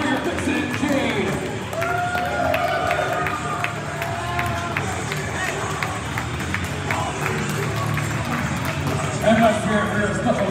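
At a live wrestling event, a crowd claps and cheers in a continuous, fairly loud roar with scattered shouts, while an announcer talks over the noise.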